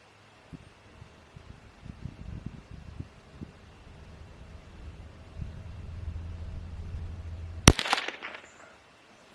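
A single sharp rifle shot from a CZ 455 Ultra Lux .22 during an outdoor accuracy test, cracking loudly near the end after quiet handling and light rustling.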